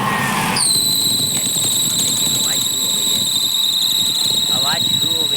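A car's engine drive belt squeals with the air conditioning running: a loud, steady high-pitched whine starts abruptly and holds over the constant rumble of the running engine.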